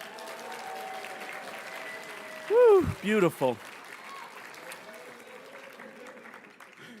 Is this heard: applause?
yes